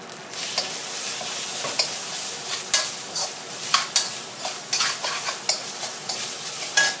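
Old-style Thai egg fried rice stir-fried in a pan, with a steady sizzle under repeated scraping and tossing strokes of a spatula that come in an irregular rhythm, close and fairly loud, with no voices.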